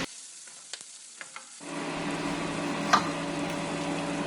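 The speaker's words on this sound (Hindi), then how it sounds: "इसमें फिर दाल डालेंगे और उसको उबालेंगे 2 से 3 मिनट के लिए" Washed mash lentils (dal) hitting a hot pot and boiling, a few soft clinks giving way to a steady, close sizzling bubble that continues loudly to the end.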